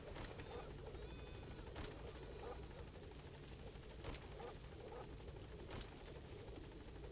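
The Pequod helicopter in Metal Gear Solid V whirs steadily throughout, a continuous rotor drone with faint rhythmic chop, moderately distant and unbroken by talk.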